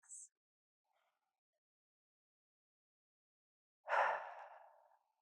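One slow, deep breath pushed out through the mouth, soft and close, follows a stretch of near silence and a faint brief breath at the start, fading gradually as the air runs out.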